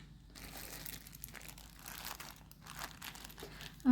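Faint plastic crinkling and rustling, soft and close, as small bags holding vintage jewellery are unpacked, ending in a brief louder knock.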